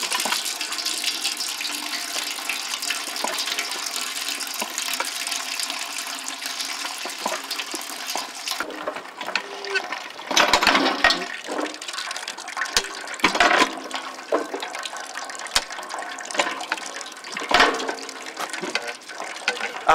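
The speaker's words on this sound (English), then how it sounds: "You can see there they've just pressed the apple juice in there." Freshly pressed apple juice flowing from a fruit press, a continuous splashing, running pour that thins and grows more uneven halfway through, with scattered knocks and clatters.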